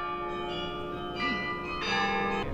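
Carillon bells of the Mafra National Palace ring out at an outdoor inaugural concert before a large crowd, sustained overlapping tones swelling in two louder strikes, resonant and alone with no voices.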